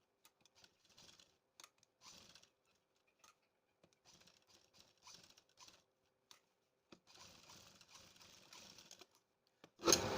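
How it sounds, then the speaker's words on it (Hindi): Sewing machine stitching the outer side of a fabric sleeve in short quiet bursts of rapid needle patter with pauses between runs, faint and close, no talk. "अब इसी तरह से हमें बाहर की साइड भी सिलाई लगा लेना है।"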